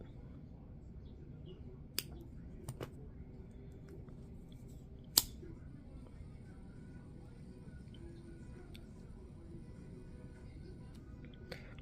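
Scissors cut a knotted anklet cord with a few sharp, faint snips spread over a quiet background.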